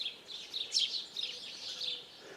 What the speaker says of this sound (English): The birds don't like me being about, that's for sure.